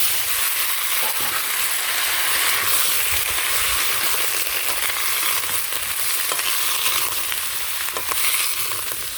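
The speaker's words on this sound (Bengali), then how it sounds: "সবজিগুলো একটু ভাজা হোক" Home-grown vegetables fry in hot oil with cumin in a village kitchen, a steady loud sizzle with occasional scraping stirs and clinks, no voices.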